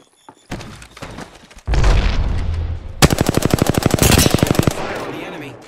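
Automatic gunfire in the video game Apex Legends: a few scattered shots, then a dense, rapid machine-gun burst of evenly spaced loud cracks lasting several seconds, close and dominant.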